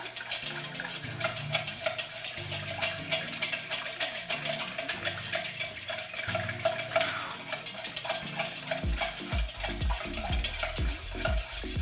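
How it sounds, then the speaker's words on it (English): Smoked Manhattan or Old Fashioned cocktail being stirred, rapid clinking and ticking of a spoon against ice in a glass, continuous and close, with faint low thumps toward the end. "And then we're going to stir."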